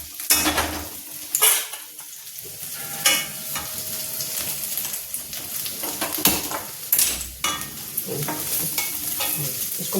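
Sabudana khichdi ingredients with fried potatoes and green chillies are stirred and fried in a pan, giving soft sizzling under repeated scraping stir strokes and occasional clinks, close and intermittent.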